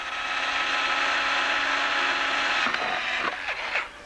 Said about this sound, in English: You drill right where you punch.